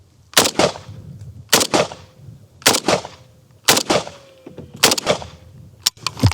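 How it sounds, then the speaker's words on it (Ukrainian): Five sharp AK-47 rifle shots (7.62x39) fired one at a time at roughly one-second intervals, each loud crack followed by a brief ringing decay, with a quieter final report. "здійсню одразу 5 пострілів"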